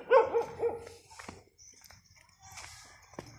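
A dog barks several times outdoors while on holiday in Thailand, with a quick burst of close, sharp barks at the start and then quieter yips, and people talking faintly in the background.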